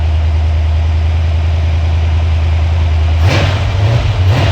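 A gasoline-fueled V8 engine with a carburetor idles at about 1200 RPM, a loud, steady low rumble that shifts in pitch and roughens toward the end.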